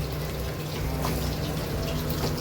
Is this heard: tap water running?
yes